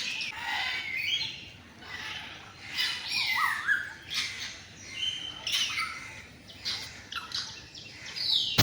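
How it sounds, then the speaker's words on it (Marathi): Several birds call loudly and repeatedly, sharp chirps and squawks overlapping in bursts throughout, with no talking, in Jijamata Udyan, Mumbai. "एवढा जोर जोरात ओरडत्यात पण कोणता पक्षी ओरडते काय माहिती"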